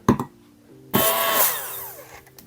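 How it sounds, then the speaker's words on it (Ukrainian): A kitchen blender whirs into melted chocolate cream filling, starting abruptly after a couple of brief knocks and running steadily for over a second before winding down, close and moderately loud. "щоб прибрати маленькі шматочки шоколаду, які не розчинилися, я хочу збити блендером"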